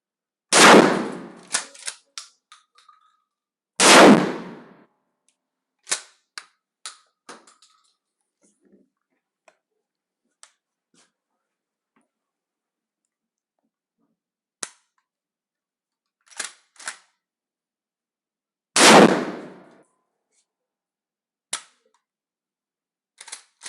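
Shotguns in 12 and 20 gauge fire birdshot and buckshot into double drywall: three loud, close blasts spaced several seconds apart, each followed by sharp clattering echoes and small impact clicks.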